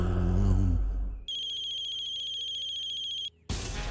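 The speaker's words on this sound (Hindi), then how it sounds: "मैं जय को फोन लगा के देखता हूँ।" An electronic phone ringtone trills steadily for about two seconds, a bright warbling tone, cut in between stretches of louder background noise.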